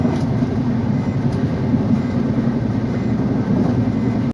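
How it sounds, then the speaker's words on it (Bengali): The Puri Sealdah Duronto Express runs at about 106 to 107 km/h, heard from inside as a steady, loud, continuous rumble with no voices. "এখন আমাদের ট্রেনের স্পিড হলো 106-107 কিলোমিটার পার আওয়ার"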